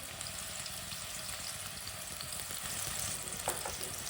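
Chopped spring onion and green garlic fry in a pan with a steady, close crackling sizzle, a dense even hiss with occasional brief pops, no voices.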